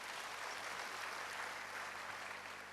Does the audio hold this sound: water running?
no